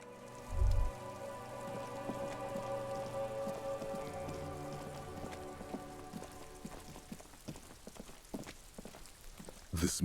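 Steady rain falls on hard surfaces in the detective game Disco Elysium, a dense continuous patter with scattered drips and taps, fairly quiet with no talk.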